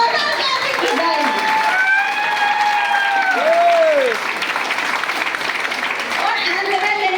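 An audience applauds at an event, a continuous wash of clapping and crowd noise that stays loud and close throughout. A voice and some whooping tones sound over it.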